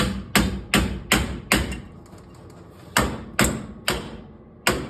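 Heavy hammer blows drive a hub assembly onto the axle splines of a 1998 Jeep XJ, with sharp metallic thuds in an uneven rhythm, a short pause midway, then more strikes.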